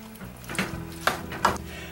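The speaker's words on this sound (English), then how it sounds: "Now I'm just going to give this a good mix until everything's well incorporated." Chili con carne with beans, tomatoes and spaghetti sauce gets mixed in a pot, a few soft scraping and thudding strokes of the spoon, close and faint against a quiet room.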